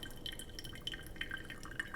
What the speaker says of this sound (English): I've never been so aware of pouring a cup of coffee.